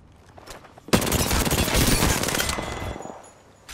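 Sustained automatic gunfire in Apex Legends as a whole magazine is emptied, a dense, loud burst of rapid shots lasting about two seconds that trails off, with no talking.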